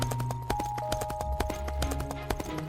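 Cartoon-style horse hooves clip-clop in a brisk, regular rhythm of sharp knocks as a rider leaves, set over a soft musical background with no voices.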